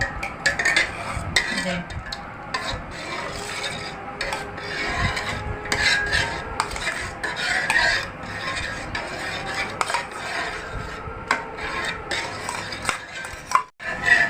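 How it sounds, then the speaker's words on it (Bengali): A spoon scrapes and rubs steadily against the inside of a pot while stirring yogurt into warm milk, a continuous close stirring with small clinks. "এবার আমি টক দইটা মেশাবো"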